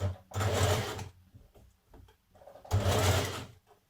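A sewing machine stitching down gathers on a Burda smock dress runs in two close, loud bursts of about a second each, separated by a quiet pause with faint handling clicks.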